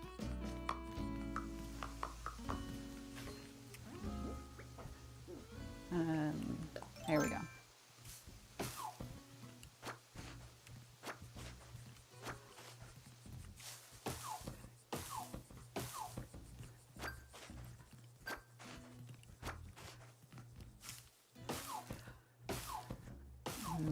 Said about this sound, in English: Let's go back to chopping our trees.